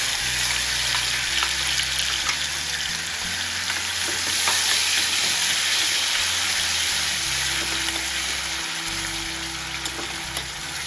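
Loud, steady sizzling of paste frying in hot oil, a dense crackling hiss that continues throughout with no voices.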